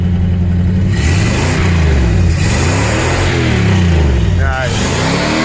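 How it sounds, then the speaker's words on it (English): A Ford car fitted with a straight pipe exhaust revs hard several times in quick succession, each blip rising and falling loudly and close by, over a steady idle with a voice heard briefly. "now give it a good rev"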